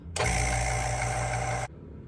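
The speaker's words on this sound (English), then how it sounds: "I'm gonna start filtering it with my vacuum pump." A vacuum pump filtering a chemical solution switches on abruptly, running as a loud, steady mechanical drone for about a second and a half before cutting off sharply, with no talk.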